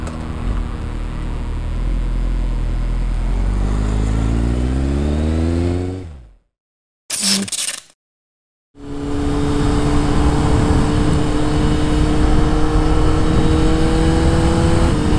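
Kawasaki Z800 motorcycle engine revving loudly and close on a highway, pitch climbing through the gears, cutting out briefly with a short burst, then resuming a steady high drone.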